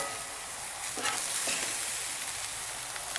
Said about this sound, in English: Hash browns been cooking probably another minute on that side